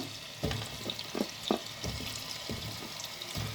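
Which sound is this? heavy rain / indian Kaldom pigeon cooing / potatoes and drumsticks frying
potatoes and drumsticks frying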